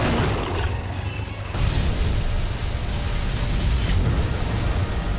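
A monster's explosion in the video game Monster Hunter World: a dense, rumbling broadband burst that swells after the first second and stays loud and sustained over game noise, with no talk.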